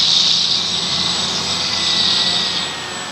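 Multirotor drone motors throttle up during a hover session, a steady close whirring whine with a bright high-pitched tone that holds loud throughout and eases slightly near the end, with no voices.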